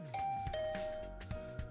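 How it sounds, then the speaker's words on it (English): Doorbell chime in a video game set in an academy dorm, two clear ding-dong tones sustained and ringing out close and alone, with a fainter repeat toward the end. "Better ring the bell first."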